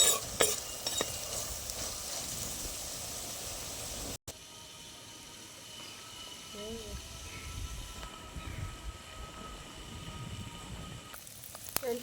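Cucumber pieces for a curry frying and being stirred in a pan, with a steady close sizzle and scraping stirring strokes throughout, broken by a brief cut and clattering handling near the end.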